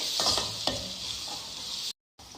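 Maida flour roasting in a pan over medium flame, with a steady dry sizzling hiss and a couple of soft stirring scrapes before a brief gap of silence near the end.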